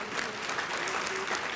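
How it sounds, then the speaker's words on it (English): Audience at a scholarship jazz brunch claps warmly in a steady, dense round of applause that stays even and close throughout the short stretch. "Let's give them another round of applause."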